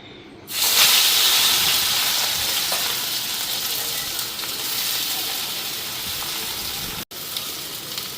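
Gram-flour battered vegetables go into hot oil in a wok over a lowered flame, setting off a sudden loud sizzle that settles into a steady, close hiss, with a brief cut near the end.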